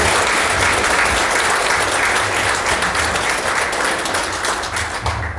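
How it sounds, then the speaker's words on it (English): Audience at a charity event bursts into loud, dense applause that carries on steadily from start to finish, with a low murmur beneath the clapping. "So now applaud for them."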